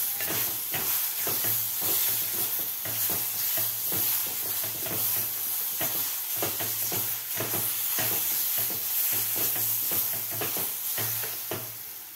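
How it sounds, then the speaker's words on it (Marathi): Roasted semolina being stirred in a pan after mango juice is added, a steady sizzle and hiss with regular scraping strokes of the spoon repeating rhythmically, close and fairly quiet. "रस घातल्यानंतर व्यवस्थित आपल्याला हलवून घ्यायचं आहे।"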